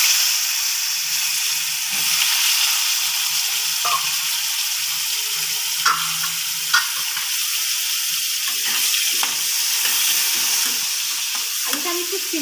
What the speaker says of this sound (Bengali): এবার আমরা একটু ভেজে নেব আলুটা।